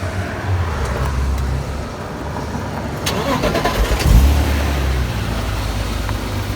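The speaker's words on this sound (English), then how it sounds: "check the engine temperature and start the engine, please" BMW Z3 2.8 roadster engine being started during an MOT test in a garage: a low idle rumble, then cranking and catching around the middle into a louder, steady running engine, with faint voices nearby.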